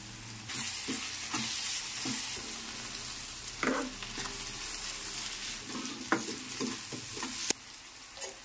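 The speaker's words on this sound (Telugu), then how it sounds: "కరివేపాకు, ఉల్లి బాగా వేగాలి" Curry leaves and onion fry in hot oil for an egg curry, a moderate crackling sizzle with intermittent spatula scrapes against the pan and occasional sharper clinks, no speech.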